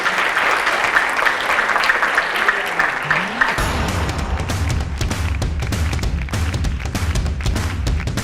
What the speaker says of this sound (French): Et qu'on peut applaudir.